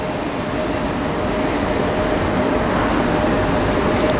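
West Midlands Railway class 172 unit 172342 at Birmingham Snow Hill station, a steady close-by rumble of the train moving at the platform with a faint high whine running throughout.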